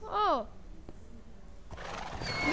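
A horse in a video game gives one loud, wavering neigh at the start. A steadier noisy rumble of the herd follows, with a person talking over it.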